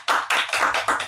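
Several people clap their hands at a municipal gathering, a short close burst of about five distinct claps in a quick, slightly uneven rhythm with no talk over it.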